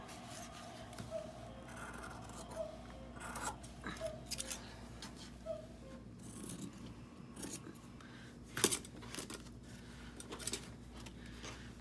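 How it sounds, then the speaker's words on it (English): Scissors trim the excess fabric at the corner of a handmade fabric journal cover made with an envelope and felt, giving a run of quiet, close snips and rustles spread over several seconds. "I want to just trim the corner so there's less excess in the corner."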